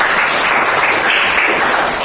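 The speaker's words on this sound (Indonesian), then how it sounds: "tepuk tangan dulu dong buat saya" Applause from a class during a practice teaching lesson, a short, steady burst of many people clapping at close range for about two seconds.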